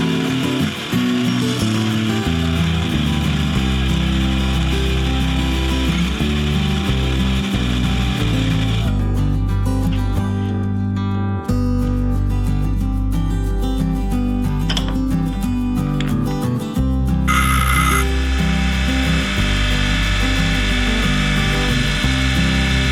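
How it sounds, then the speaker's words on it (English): A portable band saw cuts through a piece of cast aluminum bronze, producing a loud, continuous grinding rasp with a steady tone that shifts pitch midway as the blade bites, with no talking. "You could try and hacksaw this, but I really prefer the portaband."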